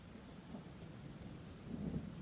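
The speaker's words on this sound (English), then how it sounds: "I could hear that, Rain. It is a nice sound effect they have going on here." Steady rain from the Persona 4 video game, a soft, even wash of falling water with a low rumbling undertone, continuous and unbroken throughout with no voices.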